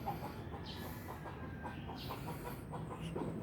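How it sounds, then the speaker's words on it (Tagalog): A prized rooster gives repeated short clucks in a regular rhythm, fairly close but soft, over low outdoor background noise. "Ang Supremo kong manok."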